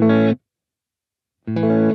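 Electric guitar played through an Earthquaker Devices Avalanche Run delay pedal, two short bright chords with silence between them, heard alone and up close.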